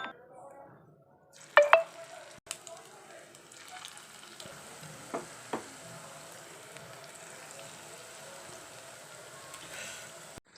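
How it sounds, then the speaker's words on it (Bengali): Egg pakoras frying in a wok of hot white oil over a medium flame, giving a faint, steady sizzle with a few soft pops and clinks near the start. "মিডিয়াম ফ্লেমে আমি বড়াগুলোকে সব ভেজে নেব"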